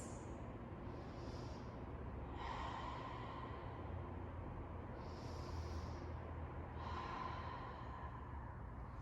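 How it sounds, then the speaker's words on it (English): Slow, deep breaths during a stretching routine, each a soft, airy inhale and exhale heard close and alone in a quiet room, repeated about four times. "2 deep breaths"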